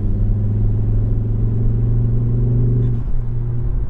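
A Ford Focus ST MK II engine accelerating in sixth gear at a little over 90 km/h from about 2000 rpm, a loud, steady low drone that dips briefly near the end.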